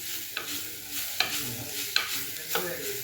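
Onions sautéing in a pan for an ginger curry give a soft sizzle, and four sharp spatula scrapes and taps land at roughly even intervals over it.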